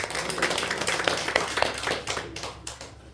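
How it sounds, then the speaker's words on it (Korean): Congregation clapping at a Korean church thanksgiving service celebrating a denomination head's reappointment, a few seconds of brisk, somewhat uneven hand claps that thin out near the end. "다시 한번 하나님께 감사의 박수 드리겠습니다."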